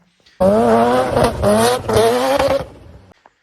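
A turbocharged Nissan Skyline R32 GT-R engine roars loudly close by, revving up and shifting for a few seconds before cutting off abruptly.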